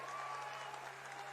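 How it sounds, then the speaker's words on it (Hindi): Hall audience at a social media volunteers' meet in Kolkata applauding to welcome Amit Shah, a continuous, even roar of clapping heard at some distance beneath a steady low hum. "तालियों की गड़गड़ाहट से स्वागत कीजिए।"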